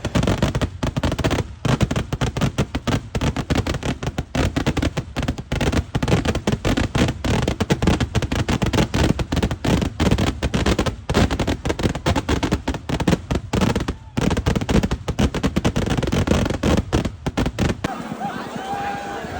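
A relentless barrage of loud firecracker bursts from a daytime temple fireworks display in Kerala crackles for a long stretch, dense and rapid, with crowd voices faintly audible beneath the explosions.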